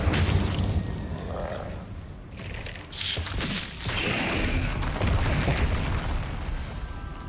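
An Incendio fire spell goes off in Hogwarts Legacy, giving a sustained roaring, crackling blast with booming bursts in a dense, noisy game fight, no talk over it.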